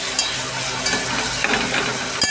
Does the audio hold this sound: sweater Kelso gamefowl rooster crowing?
no